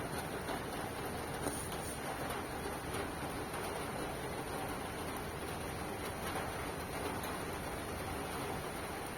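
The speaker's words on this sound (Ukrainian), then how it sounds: "Та ще який дощик, він посилюється і посилюється." Steady rain falls continuously, a dense even hiss of drops on surfaces with no pauses or other sounds.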